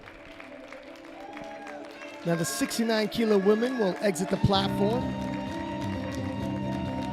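A crowd claps for women lifters leaving the platform at a world classic powerlifting championship. The applause swells midway and carries on under an announcer's amplified voice in a large hall.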